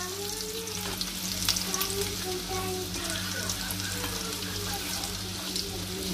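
Chopped garlic and cumin seeds fry in hot oil for a dal tadka, a dense, steady sizzle with stirring scrapes over a low kitchen hum and no talking.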